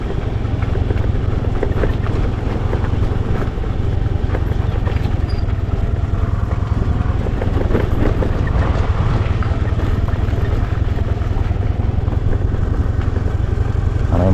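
Steady engine drone of a vehicle on a road in a hilly tribal village, close and continuous with a rough low rumble and no talking.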